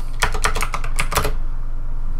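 Quick burst of computer keyboard typing, about a dozen crisp keystrokes in an uneven rhythm over roughly a second, close and clear, then quiet room tone.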